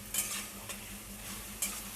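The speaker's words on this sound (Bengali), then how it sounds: "এর মধ্যেই আমি টমেটো কুচি আর নারকেল ভাজাটা এর মধ্যেই আমি দিয়ে দিলাম। দিয়ে আমি এটাকে ভালো মতনভাবে কষবো।" Chopped tomato and fried coconut are stirred and sautéed in a pan for ghugni, with a soft steady sizzle and a few sharp scraping strokes of the spoon, quiet and close with no voices.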